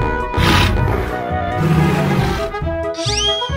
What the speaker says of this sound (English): Dinosaurs.